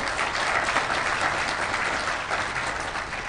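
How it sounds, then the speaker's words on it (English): Conference audience at a hacker convention applauding, with dense sustained clapping from a large hall that holds steady and fades only slightly, no speech on top. "a round of applause, please"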